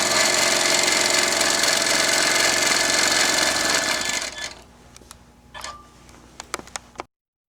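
A Tin Lizzie 18 sewing machine runs steadily for about four seconds with a dense, loud mechanical whir. It then stops, leaving quiet room tone with a few sharp clicks and taps.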